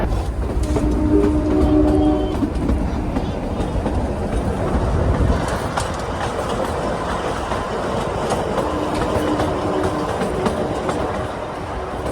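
Shimla toy train rolling along its narrow-gauge mountain rails, a loud, steady rumble with rhythmic clickety-clack of wheels over joints throughout, heard from on board with no talk.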